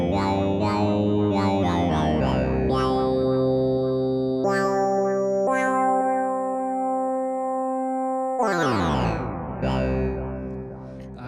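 Monophonic patch on a Moog Matriarch analog synthesizer with analog bucket-brigade delay, playing a sequence of sustained notes with filter sweeps and a pitch dive near the end, continuous and prominent.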